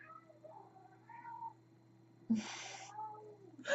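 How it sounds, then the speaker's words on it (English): A cat meows several times, drawn-out and tuneful like a song, close and fairly loud. One sharp, rough call rises near the end, with no speech over it. "The cat decided to sing a song."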